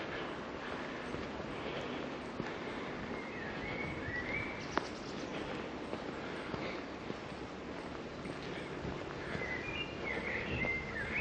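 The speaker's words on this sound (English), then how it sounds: "I can hear a bit of traffic in the distance, but mostly it's birds." Birds singing outdoors in Danish nature, faint scattered chirps and calls over a steady broadband wash of distant traffic, soft and continuous throughout.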